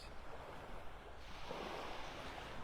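Ocean surf breaks and washes steadily along a beach in North Naples, Florida, a continuous loud roar with some wind buffeting the microphone and no voices.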